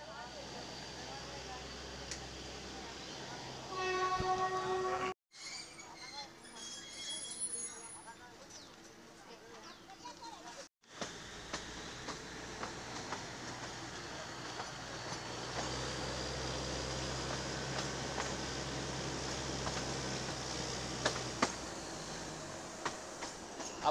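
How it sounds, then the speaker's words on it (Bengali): A train rumbles past a level crossing with a steady clatter of wheels and a few faint squeals, the noise cutting out briefly before the rumble returns; a voice speaks faintly at times. "আবার দাঁড়িয়ে যাবে ট্রেনটা"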